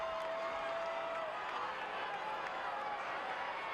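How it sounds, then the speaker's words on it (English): Excited crowd at a 1990 rugby league match between South Sydney and Manly, a steady broad roar of cheering and whistles, distant and continuous with no single standout voice. "Very excited crowd now."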